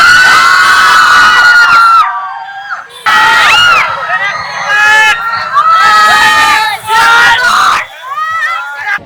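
Cricket supporters of the Janakpur Bolts crowd together at a victory celebration with students, loud cheering, shouting and screaming in repeated surges broken by short lulls, children's voices prominent up close.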